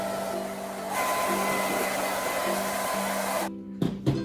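Hair dryer blowing steadily and loudly on freshly base-coated paint on a terracotta pot, a continuous whooshing drone with a motor hum that cuts off near the end, leaving a couple of handling knocks.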